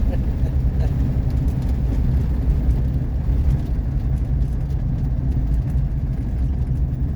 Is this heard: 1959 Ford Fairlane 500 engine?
yes